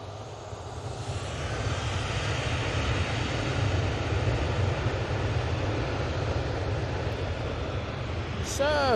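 A Ryanair airliner departing Manchester Airport for Paris, a rising broadband engine roar with low rumble that builds and holds, ending with a brief sharp whine.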